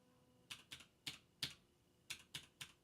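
Keystrokes tapped on a computer keyboard in short irregular bursts, about seven distinct clicks, close and fairly quiet with no talking.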